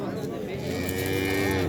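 A cow at a cattle market lowing in one long, drawn-out moo that rises and holds, fairly close and loud over a low background murmur of the market.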